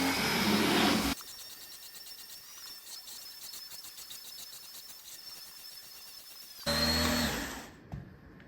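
A Gtech cordless vacuum cleaner running over a rug-style carpet, a loud whooshing burst at the start and again near the end, with a quieter, whining motor hum between them. No one speaks.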